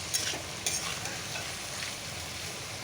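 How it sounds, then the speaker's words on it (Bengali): Potatoes fry in oil with browned onion, garlic, bay leaf and dried chillies, a soft continuous sizzle with a couple of stirring clinks near the start. "আলুটা একটু ভাজা করে নেবো"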